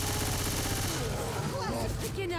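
Dense, continuous gunfire from firearms shooting a zombie in Left 4 Dead 2 fills the whole stretch, loud and sustained, with a voice talking over the shots.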